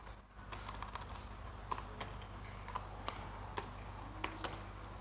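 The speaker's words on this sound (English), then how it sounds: "here I am going to type hello" Keys clicking on a computer keyboard, quiet and close, in an irregular run of separate taps with a few sharper strikes, no voices.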